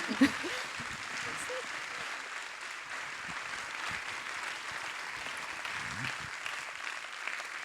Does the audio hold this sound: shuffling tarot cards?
no